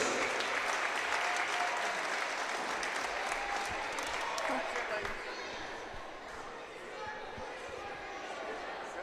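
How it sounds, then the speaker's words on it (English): Crowd applause in a high school gym during a girls' basketball game, Miami Trace against Fairfield, a broad sustained wash of clapping that carries on at a fairly even level throughout, heard at some distance. "let's have a round of applause for all of our upcoming Miami Trace Panthers"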